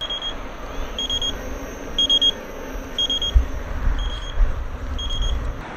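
Short electronic beeps repeat about once a second, steady and insistent: the low-battery warning of a Kingsong KS18L electric unicycle, over a low rumbling hum of motion and wind.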